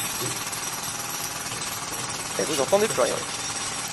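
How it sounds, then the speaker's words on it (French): Loud jackhammer hammering plays back from a recording as a steady, dense clatter filling the clip, with a person speaking over it toward the end. "Donc ça, c'est le bruit de marteau-piqueur."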